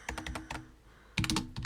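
Quick bursts of typing on a computer keyboard, two clusters of rapid clicks separated by a short pause, close and fairly loud with no talking.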